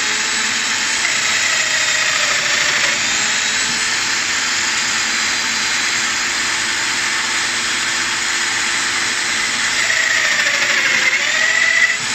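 A Festool Domino XL joiner whines steadily at high pitch for the whole stretch, cutting a mortise in a bathroom vent frame corner, close and loud, with a slight rise in pitch near the end.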